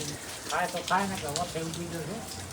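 Steady light rain falls continuously beside a shelter where a mare is kept, a soft even patter running throughout while voices talk over it.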